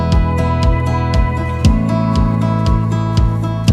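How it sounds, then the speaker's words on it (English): Austin Davis drum kit plays a steady four-on-the-floor MIDI beat, evenly spaced kicks with light hits above, alongside a sustained tonal bed for a folk worship song. "We first started out with this Austin Davis kit"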